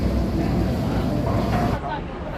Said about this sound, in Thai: เรือออกแล้วท่านผู้ชมเรือรับส่งไอคอนสยามฟรีนะครับ